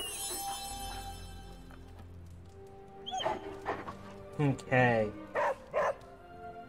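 A dog in the Midnight Suns video game gives several short, sharp barks in quick succession during the latter half, after a quiet stretch with a brief spoken word.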